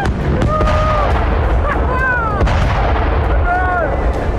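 Dense, rumbling booms of heavy bombing explosions in Gaza roll on continuously, with sharp blasts and a few rising whistle-like tones over a loud, sustained roar.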